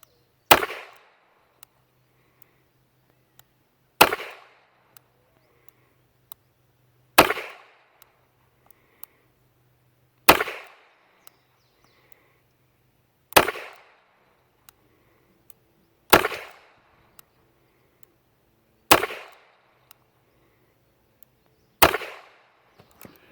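An old used H&R .22 revolver fired double action at 7 yards: eight sharp, loud shots, each with a short ringing tail, spaced evenly about three seconds apart, with quiet pauses between them and no talking.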